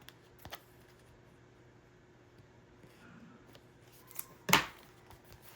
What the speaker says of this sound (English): these scissors don't seem to work very well